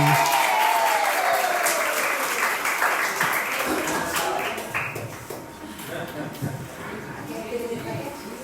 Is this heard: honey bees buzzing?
no